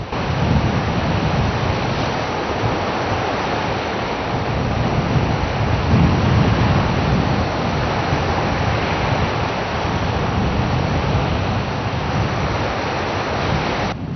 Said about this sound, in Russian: Сильный ветер и большие волны